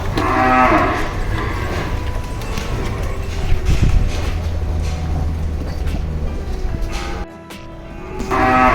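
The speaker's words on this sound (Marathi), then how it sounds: "इथे जवळजवळ चारशे ते पाचशे गाय आहेत" Cows at a large gaushala cowshed near Panvel, which holds four to five hundred animals, low and moo loudly and close by, the calls overlapping against a busy background, with a brief quieter gap near the end.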